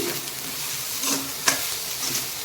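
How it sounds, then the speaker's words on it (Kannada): A bunch of fresh dill leaves is stirred into hot oil with dried red chillies in a pan for rice, producing a steady soft sizzle with a few scraping stirs and one sharp clink. "ಈಗ ನೋಡಿ ನಾನು ಸಬ್ಬಕ್ಕಿ ಸೊಪ್ಪನ್ನು ಹಾಕ್ತಾಯಿದ್ದೀನಿ ಒಂದು ಕಟ್ಟು ಇದರಲ್ಲಿ ಈಗ ತಿರುಗಿಸ್ತೇನೆ"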